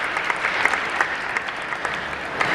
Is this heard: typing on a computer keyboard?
no